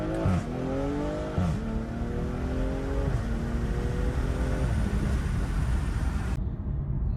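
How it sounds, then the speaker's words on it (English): A loud BMW M340i engine with a catless downpipe revs hard several times, each rise in pitch climbing and dropping back, with a raspy exhaust note throughout and no talking. "M340 with just the downpipe, catless downpipe sounds"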